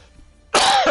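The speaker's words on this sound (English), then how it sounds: "I'm coughing and I can't breathe at night." A person coughs once, a sudden loud, harsh burst that starts halfway through after near silence and rasps to the end.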